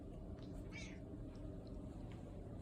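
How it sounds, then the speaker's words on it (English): A cat meows once, faint and brief, over steady low background noise, with the campaign gear for a Tahoe Rim Trail hike being laid out nearby. "except for the cat."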